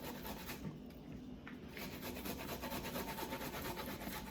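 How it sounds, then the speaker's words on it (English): Plantains being grated on the smallest side of a grater for Puerto Rican sancocho, a steady close rasping scrape that runs continuously at a low level, briefly easing before resuming, with no talking. "We're gonna use this one from our grater, the smallest one. And we're just gonna grate the plátanos"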